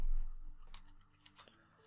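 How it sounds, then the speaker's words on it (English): Quiet keystrokes on a computer keyboard: a few faint, sparse clicks and taps during a coding tutorial, heard close but soft against a low background. "I will simply type here"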